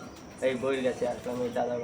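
Domestic pigeons coo in a few soft, short bursts close by, with low talk around them.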